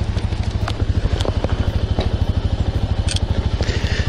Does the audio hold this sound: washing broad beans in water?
no